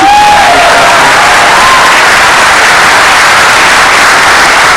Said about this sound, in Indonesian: sekali lagi tepuk tangan dong untuk Penta Boys